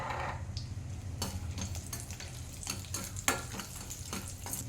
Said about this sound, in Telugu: ఈ నెయ్యి కరిగిన తర్వాత ఈ డ్రై ఫ్రూట్స్ ఉన్నాయి కదా, ఆ డ్రై ఫ్రూట్స్ని వేయించుకోవాలి.